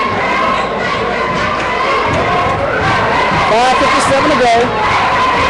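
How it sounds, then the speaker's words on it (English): Visiting Madison Prep fans cheering at a high school basketball championship game against Brusly, crowd roar and whistles rising beneath a commentator talking over the action. "you can hear the visiting Madison crowd getting the crunk in here"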